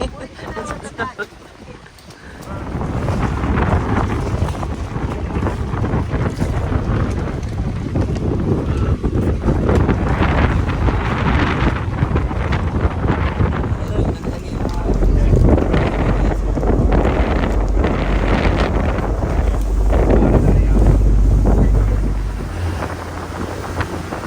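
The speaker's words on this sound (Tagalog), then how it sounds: "Pabalik na, lakas ng alon." A boat at El Nido pushes back through strong waves in heavy wind, with gusty wind buffeting the microphone and the hull thumping and splashing in repeated surges, loud and close, while people talk and shout in between.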